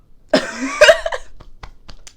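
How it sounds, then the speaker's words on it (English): A single harsh cough bursts out close by, followed by a few smaller breathy coughs and throat sounds trailing off. "I started coughing."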